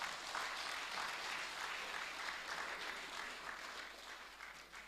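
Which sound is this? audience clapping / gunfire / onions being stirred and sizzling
audience clapping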